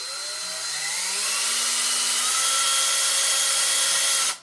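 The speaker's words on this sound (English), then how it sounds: "Let the drill do the job." A power drill boring holes through the plastic shell of an AM 4.5 Stormtrooper helmet, a steady close whine that rises slightly in pitch as it spins up, then stops abruptly at the end.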